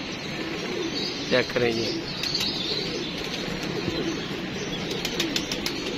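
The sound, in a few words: pigeons cooing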